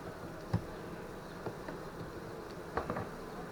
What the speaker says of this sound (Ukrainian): Так, залазьте бджоли.